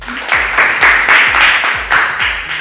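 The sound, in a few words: applause for quiz winners on school radio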